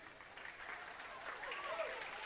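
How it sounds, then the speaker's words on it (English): Simpson Academy fans clap on the far side of a gym at a girls' state tournament basketball game, a faint, distant round of applause with a voice over it. "Jared Smith replaces Joe Barry, who gets a nice round of applause from the Simpson fans on the opposite side of the gym"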